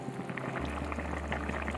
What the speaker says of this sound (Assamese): আৰু অকমান দেরি এতিয়া মই ভালকে উতলিব দিম